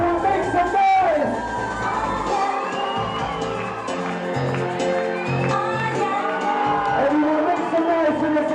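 A crowd at a Bar Mitzvah celebration cheers, whoops and screams continuously and loudly, a dense roar of many voices with children shouting throughout.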